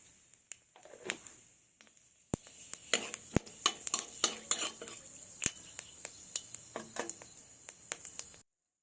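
Five-spice tempering stirred into hot mustard oil in a wok: scattered metallic clinks and scrapes of a utensil against the pan, with a faint sizzle underneath, close by.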